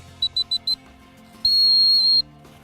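A dog-training whistle sounds four short, even toots, then one long, steady blast cued as a sit command. The whistle is loud and close against a quiet outdoor background, with no voices.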